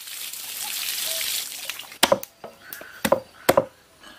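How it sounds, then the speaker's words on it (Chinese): Pork ribs being washed under running water: a steady hiss of flowing water at first, then a series of sharp wet knocks and splashes as the ribs are handled, loud and close. "排骨清洗一下。"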